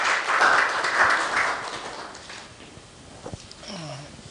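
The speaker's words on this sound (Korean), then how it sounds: "박수 치세요." Audience clapping in a systematic theology class is strongest at first, then fades to scattered claps, with voices and a few knocks near the end.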